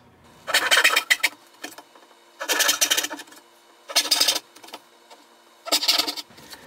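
Hand saw cutting dovetail tail sockets in a wooden drawer side, heard as four separate bursts of rasping back-and-forth strokes with short pauses between them, close and fairly loud with no talking.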